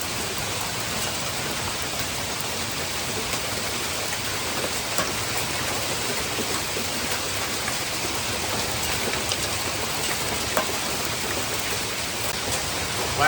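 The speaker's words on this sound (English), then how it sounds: "a front has moved in, and it's hailing." Hail falls outside during a fall storm front in Breckenridge, a dense, even hiss of pelting ice that continues steadily without pause, close and fairly loud.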